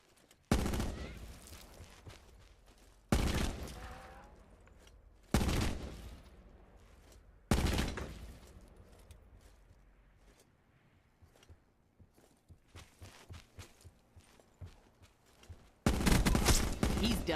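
Short bursts of gunfire from a three-round burst weapon in the shooter game Black Ops 4, arriving as four loud, evenly spaced volleys, then quieter scattered shots and footsteps before a final heavy burst.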